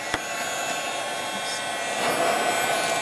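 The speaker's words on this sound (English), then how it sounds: "And I'm just going to grab my heat gun again." A heat gun blows steadily on fusible webbing, a continuous airy roar that gets slightly louder partway through, with one faint click near the start.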